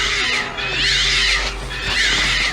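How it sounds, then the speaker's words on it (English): Shrill, cat-like shrieking from a scene in Harry Potter and the Deathly Hallows – Part 2, rising and falling wails repeating twice over a low rumbling background. "That's like men shouting. It sounds like cats."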